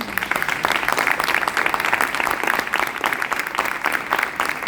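An audience at a book presentation in Ibiza breaks into a thick, steady round of applause, many hands clapping continuously and close for the whole stretch, with no talk.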